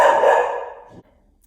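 A pet dog at home lets out one loud, close bark that fades over about a second, then leaves near silence.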